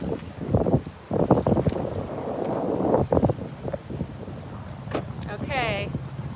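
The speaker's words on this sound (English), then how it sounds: "Ah, it's already so windy." Strong outdoor wind buffets the microphone with continuous low rumbling gusts in a roadside setting at Cabazon, while a person talks over it almost throughout.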